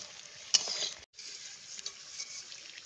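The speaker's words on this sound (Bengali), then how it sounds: "ডিমগুলোকে উল্টে পাল্টে ভালো করে ভেজে নিচ্ছি।" Eggs fry in oil in a pan while being turned over, giving a steady close crackling sizzle with a sharp clink near the start and a brief silent break partway through.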